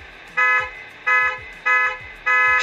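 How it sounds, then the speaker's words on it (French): The horn of a Tamiya MFC-03 RC truck sounds four times in a regular rhythm, each a loud, bright electronic tone of about half a second, close up with no talking. "Et là, vous avez l'autre klaxon."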